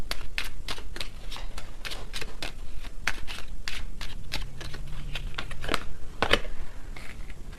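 Tarot cards shuffled by hand: a steady run of crisp riffling snaps and flicks, close and fairly loud, continuing for several seconds with no talking.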